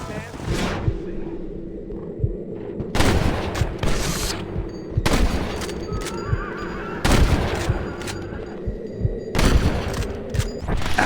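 Gunfire in the Western video game Red Dead Redemption: repeated heavy bursts of shots and booms in clusters every couple of seconds, loud and close, with brief quieter gaps between volleys.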